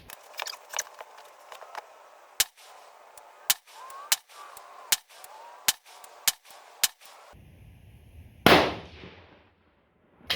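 Sharp rifle reports from .308 and 6mm loads being fired over a chronograph crack out at irregular intervals, about a dozen close, loud shots with one heavier blast near the end.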